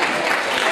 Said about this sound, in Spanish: un fuerte aplauso para Irene